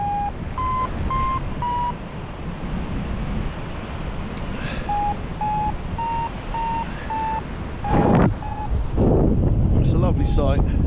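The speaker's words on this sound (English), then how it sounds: "wind is quite strong" Strong wind buffeting the microphone while paragliding over the Newhaven cliffs, a constant roaring rush with a few heavier gusts near the end, accompanied by steady electronic beeps from a flight instrument.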